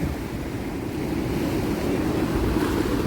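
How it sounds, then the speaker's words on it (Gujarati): Big stormy sea waves at Dwarka, a loud continuous roar of surf and wind noise on the microphone filling the whole stretch with no voices. "હવે આ મોટું મોજું હવે આવ્યું ને."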